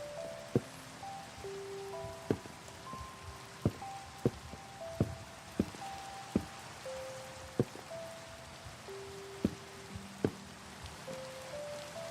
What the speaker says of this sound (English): just get used to the rain, because Minecraft hates me and it's constantly raining